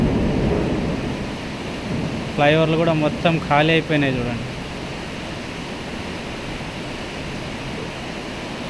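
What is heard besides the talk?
heavy rain in Hyderabad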